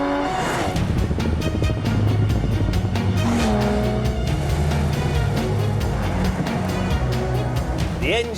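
A Singer-modified Porsche 911 with a Cosworth-fettled 3.8-litre flat six making 360 horsepower drives with a loud, steady engine note and tyre noise throughout, a brief skid or squeal near the end.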